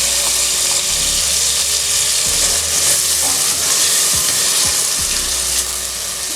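Chopped onions hitting a hot pan for a makwala shrimp broth, giving a steady, loud, close sizzle that holds for several seconds with a few faint stirring knocks underneath.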